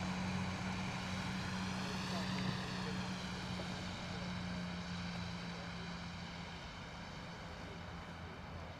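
A large US Air Force tanker aircraft flies over RAF Lakenheath, a steady, fairly distant engine roar with a faint whine that slowly fades across the clip.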